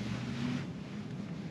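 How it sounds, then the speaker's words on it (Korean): Tesla Model 3 Performance electric motor whining faintly inside the cabin while driving in sport mode, a steady low hum under broadband road and wind rush, with no talking. "특유의 전기 모터 소리 약간 들리죠 뭐 별도로 안 내도 들리는데"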